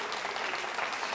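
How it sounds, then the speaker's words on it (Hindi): An audience claps steadily and densely through the whole moment at a college anniversary quiz show, a sustained round of applause from a crowd with no voices standing out. "इस जानकारी के लिए भी बजा सकते हैं तालियां आप जोरदार तरीके से"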